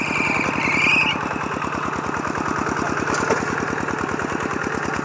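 Small hand tractor engine idling in a rural rice-farming setting, a loud, close, rapid regular chugging pulse that holds steady throughout, with a brief high whine near the start.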